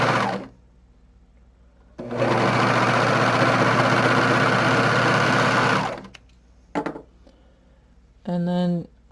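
Serger overlock sewing machine running with both settings at 8 and the blade disengaged: a loud steady mechanical whir lasting about four seconds, then a brief burst and a short second run, with a voice nearby.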